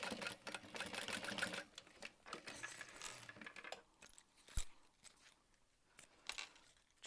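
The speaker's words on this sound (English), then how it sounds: "Back stitching at the beginning, back stitching at the end" A sewing machine back stitches a seam on a handbag, running in a steady loud whir before stopping, followed by quieter clicks and handling sounds as the fabric is adjusted.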